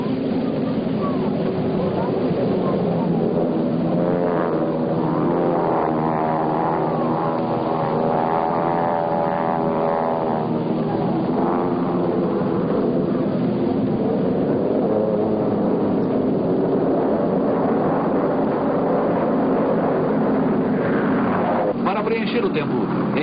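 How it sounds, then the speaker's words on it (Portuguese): Four North American T-6 propeller planes of the Brazilian Air Force Smoke Squadron roar through an aerobatic display in diamond formation, a loud continuous engine drone rising and falling in pitch as they pass, with a commentator talking over it. "os 4 aviões, que agora, em diamante, iniciam a manobra mais difícil da demonstração"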